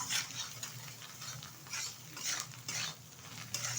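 A spatula scrapes and stirs egg with turmeric in a pan, quiet rhythmic scraping strokes repeating over steady background hiss.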